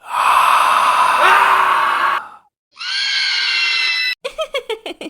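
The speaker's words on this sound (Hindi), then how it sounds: "वह घबराकर चिल्लाने लगा" A panicked man's scream in a horror story set in a haunted mansion: a long loud harmonic cry, a short gap, a second sustained scream, then a run of sharp gasping breaths, with no speech.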